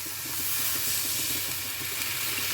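Water poured into a pan of sautéed potatoes for an Assam-style rohu fish curry raises a steady, loud, broad hiss and sizzle that holds without a break.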